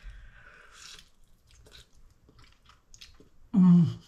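Chewing on spicy buffalo chicken wings heavy with cayenne sauce, soft wet bites and mouth sounds at close range, ending in a louder burst near the end.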